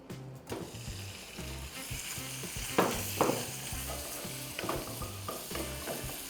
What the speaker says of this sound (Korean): 조금 센 불에 고기를 볶아주세요.